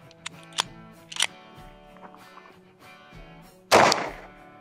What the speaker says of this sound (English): We're gonna shoot it with a 9mm, just a Glock 19.